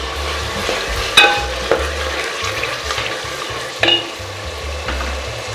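Tomatoes going into a hot frying pan while a South Indian paya curry is cooked, giving a steady close sizzle with a few sharp clinks and stirring scrapes on top and no voices.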